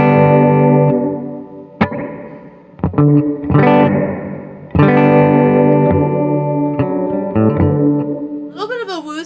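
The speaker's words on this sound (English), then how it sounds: "A little bit of a woozy chorus kind of vibe." Electric guitar through a Walrus Audio Mako Series R1 reverb pedal with its modulation engaged plays sustained chords and picked notes that shimmer and waver in a woozy, chorus-like wash, ending in a warbling pitch-bent tail.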